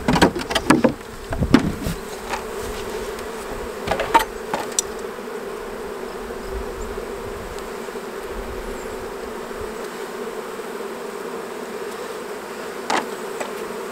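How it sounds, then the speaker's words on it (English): Steady buzzing of many honey bees being shaken into a colony fills the clip, with a few sharp knocks and taps near the start and again near the end. "I'm gonna shake these bees in."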